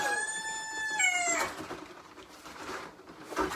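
A human voice imitates a rooster's cock-a-doodle-doo, one drawn-out crow delivered close and alone, then breaking into laughter and scuffling noise.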